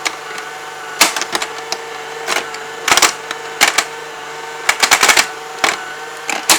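A Tomy Atomic Pinball tabletop toy machine is played, giving rapid bursts of sharp plastic clacks and rattles from the flippers, bumpers and ball against a faint steady mechanical hum, with no talking.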